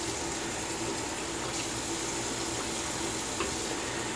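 Tap water runs in a steady, even hiss into a sink for rinsing after a wet shave, continuous and fairly quiet, with no voices.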